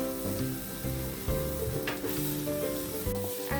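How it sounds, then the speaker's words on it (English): Finely chopped onion sizzling in hot oil for a rohu fish curry, a steady crackling fry under continuous background music. "And now we'll add the finely chopped onion, one finely chopped onion."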